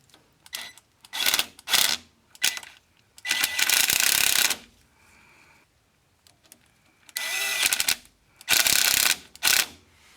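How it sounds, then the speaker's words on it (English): Hose clamps being tightened on the fuel line of a rebuilt rusty Honda CR-V, a series of close ratcheting bursts of mechanical clicking separated by short pauses, no talking. "now I'm just going to go ahead and tighten up these hose clamps"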